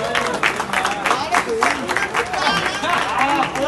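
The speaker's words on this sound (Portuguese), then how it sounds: "palmas, palmas, palmas, palmas" Crowd at a street rap battle claps and cheers steadily, with an MC's voice calling out over the dense applause throughout.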